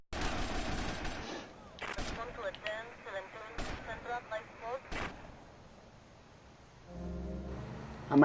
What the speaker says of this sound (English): Tommy, what are you shooting?